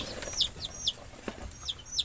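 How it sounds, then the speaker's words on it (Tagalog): Chickens cluck and chirp faintly in short scattered calls, with a few soft flutters, quiet and somewhat distant. "Medyo may mga alaga po tayong manok dito"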